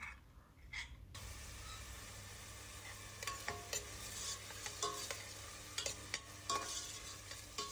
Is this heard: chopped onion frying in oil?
yes